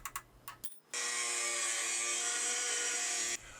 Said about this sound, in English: now I'm going to cut it out with the angle grinder